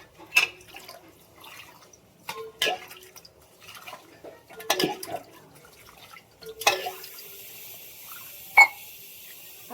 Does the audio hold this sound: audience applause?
no